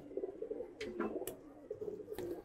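A giribaz pigeon coos softly in a loft, a few low repeated coo phrases over a quiet background, with several brief higher chirps or flutters mixed in.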